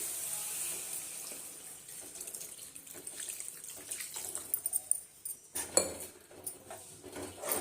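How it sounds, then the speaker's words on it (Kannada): Water runs into a pan of fried spice masala for an egg gojju, a close splashing trickle that grows busier toward the end, mixed with clinks of utensils against the pan. "ಈಗ ಸ್ವಲ್ಪ ನೀರು ಸೇರಿಸ್ತಾ ಇದ್ದೀನಿ"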